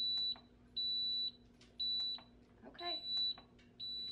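An Instant Pot sounds a series of steady high electronic beeps in regular bursts, about five in four seconds, while a person speaks briefly in the middle.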